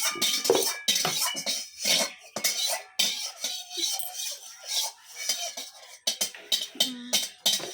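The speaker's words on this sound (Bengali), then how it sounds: "খুন্তিটা নাড়াও" A metal spatula scrapes and knocks against a cooking pot over a wood fire in irregular, clattering strokes with short pauses, loud and close by.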